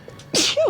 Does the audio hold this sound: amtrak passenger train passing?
no